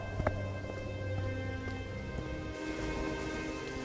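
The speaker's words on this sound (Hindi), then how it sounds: "शाम होते होते बारिश कुछ कम हो जाती है" A rain sound effect in a Hindi story about a cold spell and a flooded, ruined crop field plays as a soft, steady patter of rainfall, faint and continuous, with a low tonal hum beneath it.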